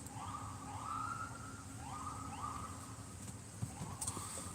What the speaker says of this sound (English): Got an ambulance over there.